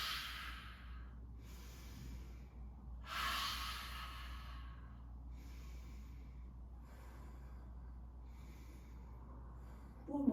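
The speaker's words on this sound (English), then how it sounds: "Open the mouth, exhale." Several long open-mouthed exhales during yoga breathing cycles, soft breathy rushes repeating roughly every two seconds, close and quiet over a low steady room hum.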